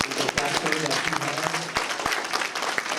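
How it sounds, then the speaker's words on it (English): Applause for a competitor at an entrepreneur pitch competition in Cleveland, a dense burst of clapping from an indoor crowd, steady and fairly loud throughout with a few sharper claps standing out. "can we give a round of applause"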